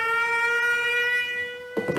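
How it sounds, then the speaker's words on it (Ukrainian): An air raid siren wails in a steady, loud, harmonic-rich tone during an alert in Ukraine's Lviv region, holding its pitch before cutting off sharply into a brief burst of noise. "Повітряна тривога починається у Львівській, принаймні області."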